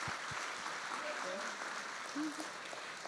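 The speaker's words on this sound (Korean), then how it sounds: "우리 다 같이 하나님께 감사의 박수 올려드릴까요?" Church congregation clapping in thanksgiving at a centennial celebration, a soft, fairly distant patter of many hands sustained briefly, with a voice murmuring over it.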